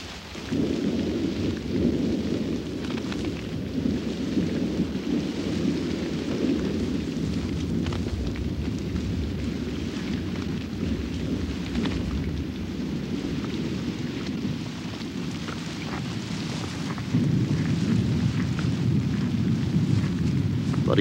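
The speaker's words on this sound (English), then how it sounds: "But even the lions are unnerved by the fierceness of this storm." Heavy rain pours steadily at night in Africa with deep, rolling thunder rumbling throughout, a dense, continuous storm roar that swells slightly louder near the end.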